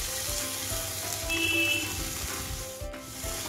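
Spices with red chili powder fry in oil for a chicken dish, giving a dense, even hiss with faint scraping and a light clink, close by and steady, with no voices.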